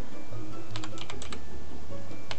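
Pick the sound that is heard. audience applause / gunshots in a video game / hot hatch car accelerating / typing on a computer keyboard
typing on a computer keyboard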